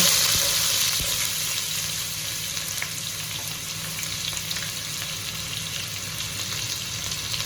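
Onions frying in hot oil with cumin in a pan for aloo methi, a continuous loud sizzle that starts strongest and settles into a steady crackling hiss with occasional light stirring sounds.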